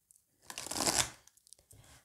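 Oracle cards are cut and shuffled close up: a quick rustling riffle of card stock swelling for about half a second, followed by a few soft taps and light shuffles.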